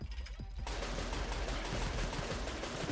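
Rapid gunfire in the top-down shooter Tower 57, a dense burst of continuous shots that begins abruptly after a brief lull and stays loud and unbroken to the end, no voices.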